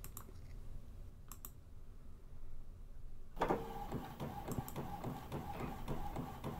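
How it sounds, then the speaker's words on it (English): An Epson WF7720 inkjet printer runs a purge sheet, its carriage shuttling with steady mechanical clicks and whirring that start abruptly after a quiet room and continue in close, repeating passes. "Gonna go ahead and print this one out now."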